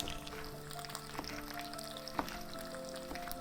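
Chopped capsicum sizzling in a pan of vegetable stir-fry with potatoes, a steady crackling hiss broken by a few light stirring clicks, close and moderately quiet, no talking.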